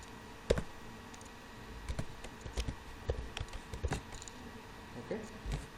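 Keys clatter on a computer keyboard as HTML code is typed, a quiet, irregular run of clicks and taps continuing throughout at close range.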